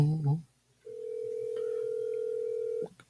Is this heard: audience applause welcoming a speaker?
no